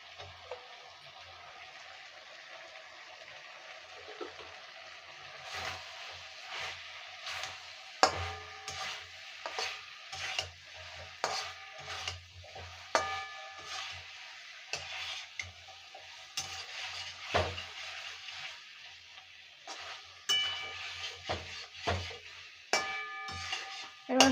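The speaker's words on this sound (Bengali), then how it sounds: "বন্ধুরা মাছটা দিয়ে দেবো, দিয়ে কষে নেবো ভালো করে।" Rui fish frying in oil in a pan while being stirred: a quiet, steady crackle with scattered sharp ticks and clicks from the stirring, no voices.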